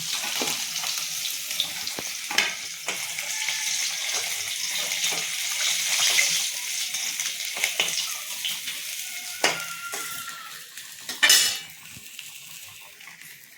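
Rohu fish pieces frying in oil for a Bengali rui posto, a steady broad sizzle running throughout with occasional louder spits and pops and light clinks of a utensil against the pan.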